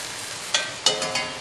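A pan of risotto with chicken, mushrooms and prosciutto sizzles steadily as stock is added and stirred, with a few short scraping stirs cutting through the constant frying hiss.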